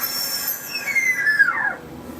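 A single whistled imitation of a red-tailed hawk's cry, made by a turkey hunter, rises and then slides down into a thin, drawn-out scream. It is moderately loud and close, with a faint hiss behind it.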